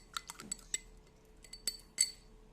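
A homemade potion being stirred in a glass gives a few faint, scattered clinks and taps of a utensil against the glass, quiet and irregular with gaps between.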